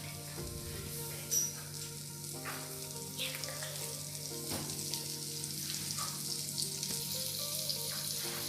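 Butter sizzles and fries in a pan as pizza preparation begins, a steady moderate crackle with occasional stirring scrapes, close and continuous with no voices.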